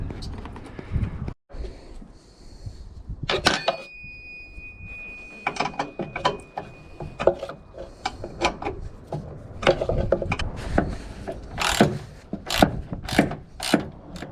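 Ratcheting and clanking of tools while bolts are worked out of a corroded chain plate on the bow of a Farrier F25C trimaran, irregular mechanical clicks and knocks with a voice talking at times.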